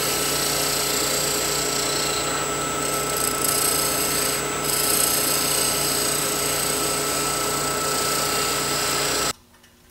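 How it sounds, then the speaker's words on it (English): A skew chisel makes a planing cut on a spinning wood lathe, a continuous close scraping rush over a steady motor hum that stops abruptly near the end. "I'm pressing that skew chisel into the tool rest so it doesn't skate. This is a pretty simple planing cut."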